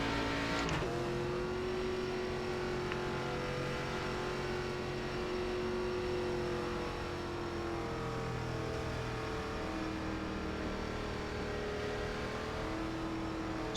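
Race car engine in iRacing's ARCA Menards Series at Southern National, a steady loud drone with continuous harmonics as the tires are warmed, rising and falling slightly in pitch throughout, with a sharp burst near the start.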